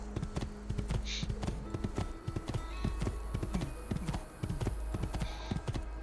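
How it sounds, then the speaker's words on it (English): Rhythmic hoofbeats clip-clop steadily from a horse in Assassin's Creed 2, with a low engine-like hum and faint game sounds underneath. "Come on, horsey."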